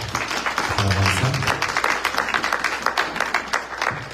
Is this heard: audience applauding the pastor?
yes